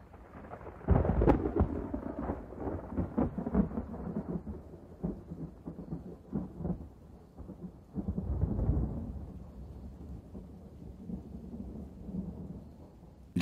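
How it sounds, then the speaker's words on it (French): A terrible thunderstorm breaks out with a sharp crack of thunder followed by long, rolling rumbles and a second swelling roll, all over a steady hiss of rain. "et un terrible orage éclata."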